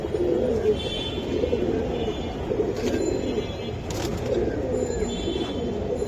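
Giribaj pigeons coo in a low, steady murmur that carries on throughout, with a few faint higher chirps above.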